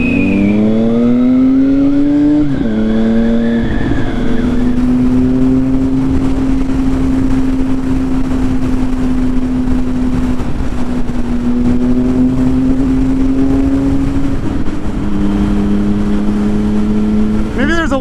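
A motorcycle engine that won't shut off keeps idling and droning steadily at close range, with a few rising revs early and near the end and someone talking over it.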